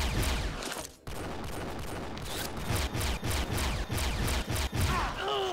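Rapid overlapping gunfire from a sniper match in a bomb-mode game room, a steady barrage of sharp shots with a brief gap near the start, loud and close throughout.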